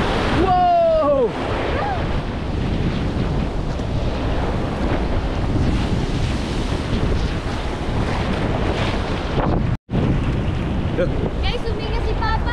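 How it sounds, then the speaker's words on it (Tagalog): Big ocean waves and strong wind at sea roar together in a loud, continuous rush, gusting across the microphone with a brief dropout near the end. "Oh, laki ng alon to."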